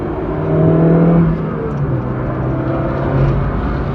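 A Peugeot car engine from the 1980s or 1990s, driving along smoothly, gives a steady low hum and whir with a slight swell in the first second.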